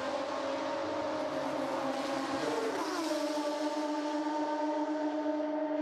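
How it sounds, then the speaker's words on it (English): GP3 Series race cars at Monza, engines droning at high revs in a steady, loud, continuous wail that shifts pitch as a car passes or changes gear, with no talk over it. "And the GP3 cars definitely putting on a show."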